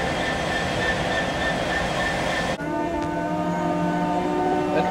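A train in the Grand Continental Railways video game: a steady, loud rolling rumble that cuts partway through to a sustained multi-tone horn-like drone over continuing rail noise, with no talk.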